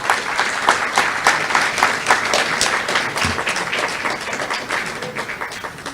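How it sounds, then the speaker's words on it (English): An audience at a school board of education meeting applauds steadily for several seconds, a dense patter of many hands clapping at moderate volume with no talk over it. "but a round of applause, Kaylee Jones and Delaney Peters."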